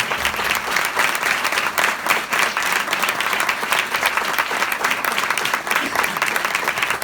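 A church congregation applauding for Jesus during a Hindi-language sermon: dense, steady clapping from many hands filling the room, loud and continuous throughout.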